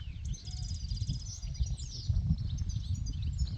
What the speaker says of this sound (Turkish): şu kuş seslerine hasret kalıyorum bazen bakın o kadar güzel ses geliyor